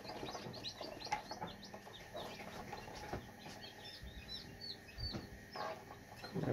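Tiny chicks of mixed breeds, including a naked neck, chirp and peep in repeated high calls amid faint clucking from a nearby flock, with scattered bumps and rustling throughout.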